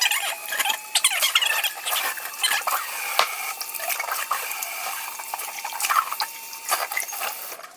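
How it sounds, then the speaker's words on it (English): Running water from a tap splashing over two vases being washed, a continuous hiss broken by irregular splashes and clinks as the vases are turned under the stream. "I'm going to wash my two vases"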